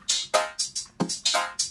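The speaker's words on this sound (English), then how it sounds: "our spectral resonator drum pattern goes from sounding like this" Drum pattern run through a spectral resonator tuned to MIDI chords, giving each hit a bright pitched metallic ring; about eight quick rhythmic hits in under two seconds, close and clear, with no voices.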